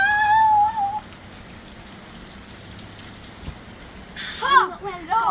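Rain pattering steadily on surfaces at a winter campsite on Bullara Station, a soft continuous hiss with children's and an adult's voices at the start and end.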